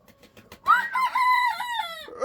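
A rooster crows loudly and close by inside a chicken coop after a rainstorm, one long drawn-out call lasting well over a second, with brief clucking and faint farmyard noise just before it.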